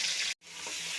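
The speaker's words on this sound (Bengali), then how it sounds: "ভাজা ভাজা করে নিয়েছি, এখন সবজিগুলো দিয়ে দেব।" Pieces of sweet pumpkin and other vegetables drop into hot oil seasoned with five-spice and ginger paste, giving a loud, steady hiss of sizzling frying broken by a brief gap.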